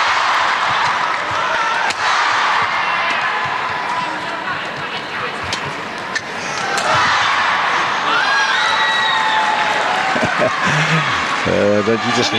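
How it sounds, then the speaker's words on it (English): A large crowd at a SEA Games men's team badminton semi-final between Singapore and Malaysia roars and cheers continuously, with whistles and shouts in a dense, loud wash of noise; a commentator's voice is faintly present. "Don't you just love that crowd?"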